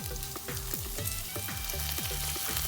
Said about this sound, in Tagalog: So magigisa lang tayo ng sibuyas, luya, at saka ilagay na rin natin ang ating onions.